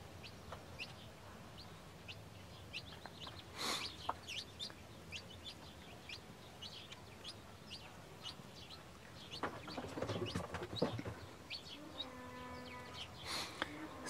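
Chickens on a farm cluck and chatter softly at moderate distance, with a few louder calls and bursts of clucking standing out over a quiet background.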